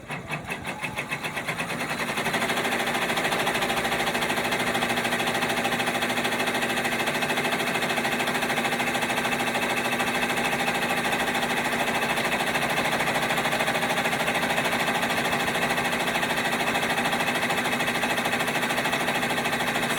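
A sewing machine stitches an appliqué iron-on patch, working the dark green lining of a melon design. After a brief start-up it runs as a loud, continuous, rapid mechanical chatter without pause.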